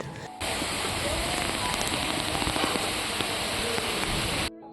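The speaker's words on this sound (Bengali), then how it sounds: "আর এই সময় না চরম বৃষ্টি চলছিল দু একদিন যাবত" Heavy rain pours down in a dense, loud, steady wash of noise, starting abruptly and holding constant before cutting off, with no voices.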